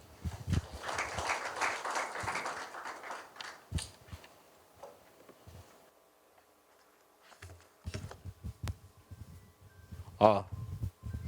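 Applause from the audience at a Korean academic conference, welcoming a discussant to the stage. It comes as a brief burst of clapping early on, fades out, and is followed by someone speaking.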